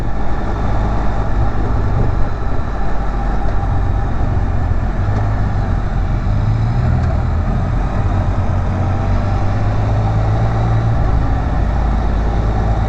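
A 2017 Can-Am Spyder RT Limited three-wheeler rolls along with a steady low engine drone and broadband road and wind roar, loud and continuous throughout, without speech.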